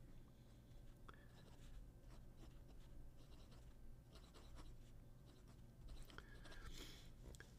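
A JD metal big pen scratching quickly across paper in fast writing, a very faint, close and continuous scratchy rustle with brief strokes and taps.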